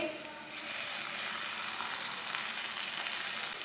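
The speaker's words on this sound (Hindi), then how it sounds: "टमाटर को भी 2 मिनट तक पका लेंगे।" Finely chopped tomato frying in a pan with ginger and garlic, a steady, close sizzle of moderate loudness that holds evenly throughout with no talking.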